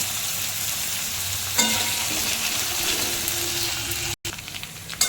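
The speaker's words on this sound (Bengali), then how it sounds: "এবার আমি দিয়ে দেবো কিউব করে কাটা আলু, ফ্রাই করে দেবো। সাথে টমাটোটাও দিয়ে দেবো ফ্রাই হওয়ার জন্য।" Cubed potatoes and tomato frying in oil give a steady, close, broadband sizzle, with a sharp stirring clatter early on and a brief dropout near the end.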